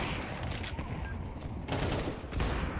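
Gunfire in Counter-Strike 2 rattles in rapid overlapping bursts, fairly faint and distant-sounding, with louder swells near the end and no talk over it.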